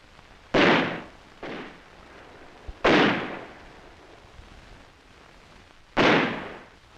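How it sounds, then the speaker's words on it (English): Three loud, sharp blasts of mortar and small arms fire in 1963 Vietnam each land as a sudden burst that trails off, with quiet gaps of a second or more between them. "who subjected them to harassing mortar and small arms fire."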